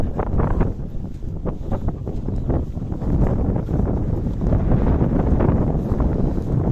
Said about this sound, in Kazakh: Жел шығып кетті.